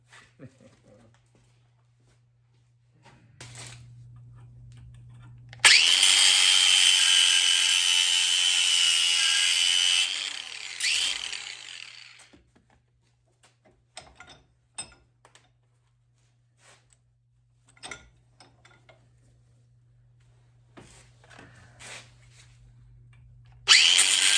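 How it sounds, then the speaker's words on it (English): A bench grinder works on carburetor parts from a 1983 Yamaha XJ900 motorcycle, a loud harsh whine lasting several seconds that then fades into scattered clicks and short clatters, with a steady low hum beneath and a brief burst returning at the end. "I will grind them on the grinder a little bit"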